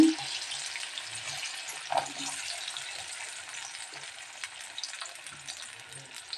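Small onions, garlic, ginger, green chillies and dried red chillies fry in hot oil for chutney, giving a soft, steady sizzle with a few faint clinks and stirring touches.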